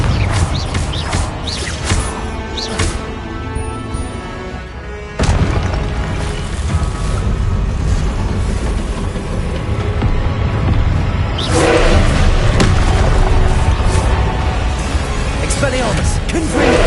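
Confringo fire spell blasts in Hogwarts Legacy on PS5, loud booming explosions and whooshes layered over dense game sound, with a heavy burst near the middle and more impacts later, a voice speaking over it.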